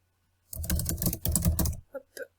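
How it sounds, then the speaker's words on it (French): Two quick bursts of typing on a computer keyboard, close and fairly loud, followed by a few scattered single key taps. "on peut aussi ajouter un texte que vous allez taper"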